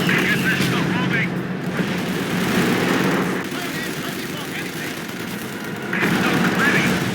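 Assault gun fire in Company of Heroes 2, a dense stretch of heavy battle noise with rumbling blasts and crackling shots, loud and continuous, swelling in bursts throughout.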